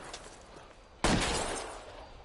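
Gunfire in the video game L.A. Noire: one abrupt loud blast cuts through quiet background noise and rings out with a long decaying tail.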